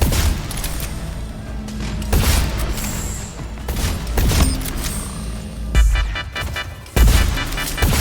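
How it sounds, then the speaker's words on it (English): Gunfire and explosions from the online arena shooter Splitgate, with loud bursts and booms hitting repeatedly over a dense, busy game soundscape and a sharp crash near the end. "you have to use the portals and guns to take down enemy players"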